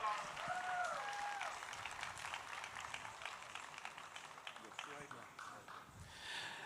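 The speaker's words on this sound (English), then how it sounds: "Big hand for Dara." An audience claps and cheers at an inauguration ceremony for a 54 ft Shiva statue, a dense, steady wash of applause that fades slowly, heard from the crowd area with a faint voice over it.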